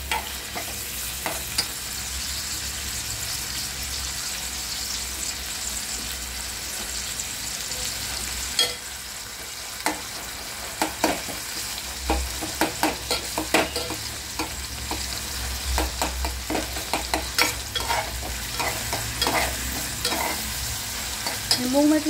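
Tomato stirred and mashed in a hot pan for a mung bean and moth bean curry, with a soft sizzle under it. Sharp, irregular scraping and tapping strokes grow denser toward the end, close up with no talk.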